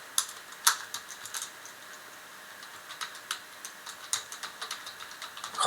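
Computer keyboard typing heard up close, a steady run of quick clicking keystrokes with a few louder taps, no voices over it.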